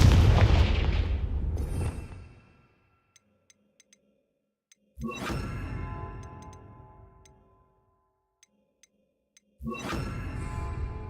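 Confringo blasting spells in a Harry Potter video game: three loud, sharp explosive blasts a few seconds apart, each decaying into a fading rumble, with faint ticking in the silent gaps between.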